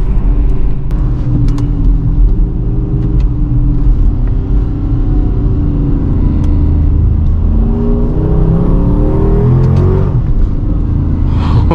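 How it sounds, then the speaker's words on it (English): A Dodge Charger R/T AWD accelerates and revs through tunnels at night, with a loud deep engine rumble and rising revs that swell strongly near the end, heard from inside the car with no talking. "Do some pops and revs underneath these tunnels."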